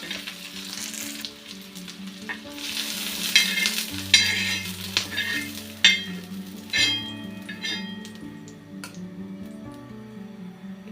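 Chopped onions frying in a pan for soya chunks gravy, a soft continuous sizzle punctuated by clinking utensil strikes against the pan as they are stirred, with a steady background hum.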